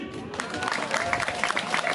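Audience applause with scattered claps and crowd noise at a live Indonesian comedy show, steady and moderately loud with a hint of voices mixed in.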